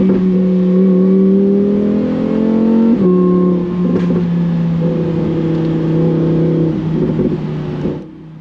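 An 850 HP Lamborghini Huracan Performante pulling hard at high speed from inside the cabin, a loud droning engine tone that climbs, dips at a gear change around three seconds, climbs again and fades at the end.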